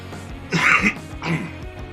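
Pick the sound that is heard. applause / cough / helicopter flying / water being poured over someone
cough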